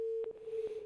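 A steady electronic telephone tone sounds after a call drops, continuous and fairly quiet with faint clicks and line noise around it.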